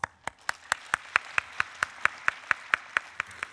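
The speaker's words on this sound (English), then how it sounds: "Please welcome him with a big round of applause" Clapping greets the president of an environment institute at the opening of a climate forum, a single set of evenly spaced, sharp claps in steady rhythm, fairly quiet and close.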